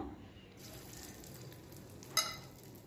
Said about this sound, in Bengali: এখন আমি এরকম গোল গোল করে আমি ডুবো তেলে এটা ফ্রাই করে নেব।